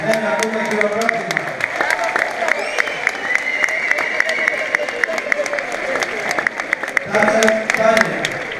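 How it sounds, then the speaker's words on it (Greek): Applause at a university graduation ceremony in a large hall, sustained clapping from the crowd running throughout, with an amplified voice and some murmuring heard over it. "Ένα ακούμε χειροκρότημα."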